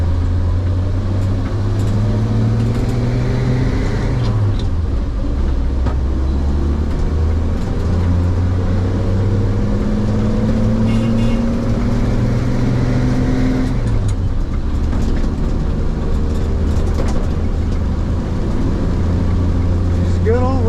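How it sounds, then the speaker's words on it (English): Old 1951 GMC truck driving along, engine droning and shifting pitch with steady road noise and clattering tires, loud and continuous from inside the cab. "Them tires clatter."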